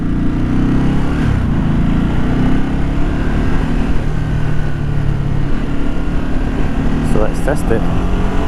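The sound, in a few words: 13 year old Ducati V-twin motorcycle engine revving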